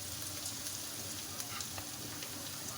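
Onions sautéing in a pan for a bitter melon recipe, giving a steady, soft sizzle and frying crackle with occasional stirring ticks, faint and continuous with no talk.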